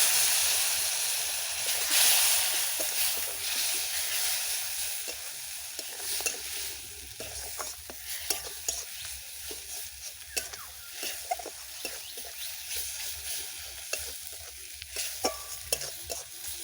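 Spices with ground coriander sizzling and hissing in a pan after a splash of water, for a village-style katla fish do pyaza, with steady frying crackle and scattered stirring scrapes close by, no talking.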